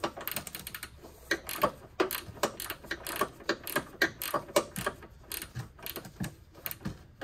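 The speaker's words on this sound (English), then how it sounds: "these are pretty good gear wrench ratchet wrenches, isn't it? You're clicking. I like the clicking." GearWrench ratchet wrench clicking close up while front struts are worked on a 2011 Lincoln MKX, rapid sharp clicks coming in quick uneven bursts throughout, with no talking.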